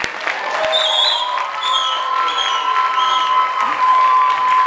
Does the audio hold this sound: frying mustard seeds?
no